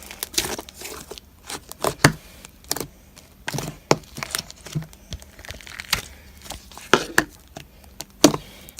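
Homemade slime being squished and mixed by hand, giving wet, crinkly clicks and squelches in irregular close bursts with no talking.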